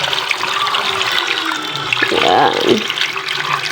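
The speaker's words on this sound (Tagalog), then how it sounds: "Lagyan na po natin siya ng tubig." Water runs steadily into a pot while balut is prepared, a splashing, gurgling stream that swells midway, with a brief spoken word over it.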